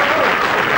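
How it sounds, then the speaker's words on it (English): Studio audience applauding quiz champions, a brief loud burst of dense clapping filling the room. "A big round of applause."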